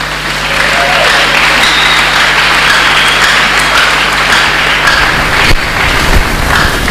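A church congregation bursts into sustained, loud applause at a worship service, a dense wash of clapping hands filling the space for several seconds with a faint murmur of voices mixed in.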